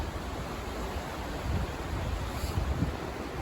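Wind gusts buffet the microphone on a river bridge, a steady rushing roar with heavier low blasts, no voices present.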